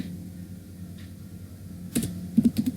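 Typing on a computer keyboard while working in an Excel spreadsheet: a short burst of close, crisp key clicks comes after a quiet stretch of low room hum, with no talk.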